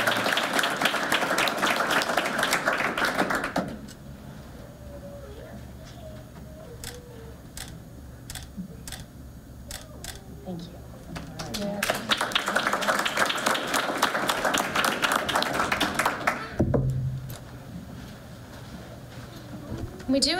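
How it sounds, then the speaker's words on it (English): Students are applauded at a school board meeting, with two bursts of clapping from a modest crowd separated by a quieter stretch of sparse ticking sounds and faint room noise. "a huge round of applause for these students"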